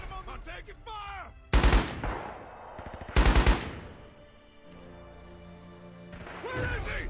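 Gunfire in the video game Rising Storm, with two loud, close bursts of rapid automatic shots separated by a pause, while voices talk and shout around them.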